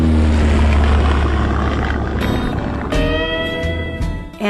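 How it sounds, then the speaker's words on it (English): Propeller aeroplane spraying insecticide over mosquito-prone farmland in the southern United States, a steady loud engine drone with a low propeller hum that holds throughout and shifts in tone near the end. "the U.S. Air Service was using its new invention, aeroplanes, to spread insecticide over mosquito-prone areas in the southern states."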